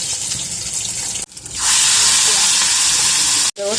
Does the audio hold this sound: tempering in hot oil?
yes